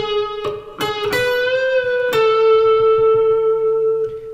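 Guitar phrase: a few picked notes, then a string bend that rises and settles into a long sustained note, close and clear with no talking.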